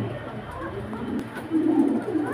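Lahori pigeons at a pigeon farm give soft, low, rolling coos close by, with a louder coo near the end, over faint background voices.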